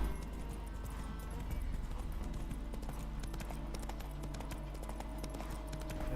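A horse gallops in The Witcher 3: Wild Hunt, with rapid rhythmic hoofbeats that continue steadily under a low, constant background hum.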